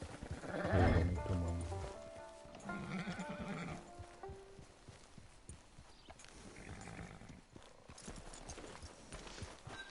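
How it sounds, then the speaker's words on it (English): Horse whinny and clopping hooves in Red Dead Redemption 2, a loud neigh near the start followed by softer hoofbeats and snorts, with game music in the background. "Get your horse."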